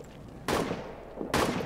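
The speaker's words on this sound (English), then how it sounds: "Heads down, artillery." Artillery in a war video game lands in two heavy, booming blasts about a second apart. Each one hits close and loud, then rumbles out.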